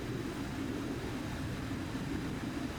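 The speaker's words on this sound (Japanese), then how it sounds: "この飛行機も無事離陸しました。" Steady broadband roar of a JAL or Korean Air airliner cabin in business class just after takeoff, a continuous loud low rumble with no talking.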